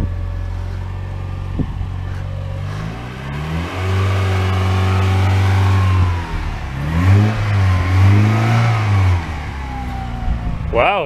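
A 1990 Mazda Miata with a manual gearbox revs hard as it pulls away on a first drive, the engine note rising and holding in loud sustained surges, close by with brief voices around it.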